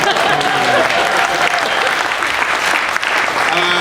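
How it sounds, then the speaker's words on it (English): A comedy club audience applauds the opening comedian, a dense, steady wash of clapping sustained throughout at close range. "Round of applause for me."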